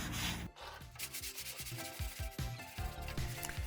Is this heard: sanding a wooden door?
yes